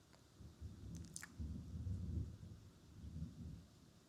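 Long rolling thunder rumbles low and distant for several seconds, swelling and fading in waves with faint rain beneath and a few brief clicks near the start.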